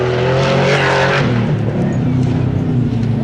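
An Ultra4 Limited Class off-road race car at Shamokin, Pennsylvania, accelerates hard into the woods, its engine roaring loud and close with strong harmonic tones that climb and shift as the throttle opens fully.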